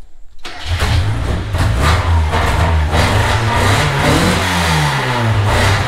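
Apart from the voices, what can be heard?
Ford Focus diesel engine running and revving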